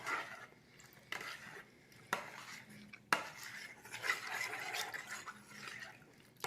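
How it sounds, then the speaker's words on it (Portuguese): A spoon stirs a liquid batter mixture in a bowl to work out lumps, with soft repeated scraping and clinks against the dish, close and moderately quiet, no talking. "Enquanto tiver pelotazinhas, você tem que mexer"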